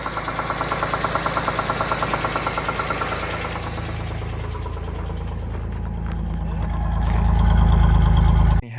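A car engine idling after an ignition timing fix, caused by a faulty pickup coil, on a car that sat unused for years. The idle knocks rhythmically and steadily, then grows louder and rougher near the end.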